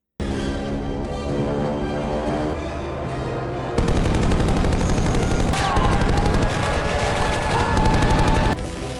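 Rapid aircraft machine gun fire strafing a dock in the film The Expendables (2010) rattles in a continuous loud burst, backed by a droning engine and occasional booms.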